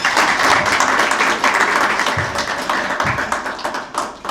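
Audience applause fills a Rotary Club presidential induction ceremony in Blantyre, a steady, dense clapping from a crowd that holds loud throughout and tapers slightly near the end.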